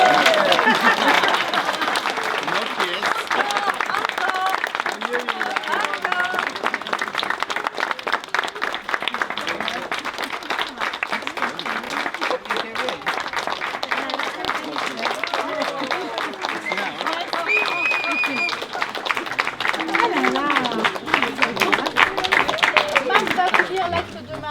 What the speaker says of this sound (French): Et vous faites les applaudissements.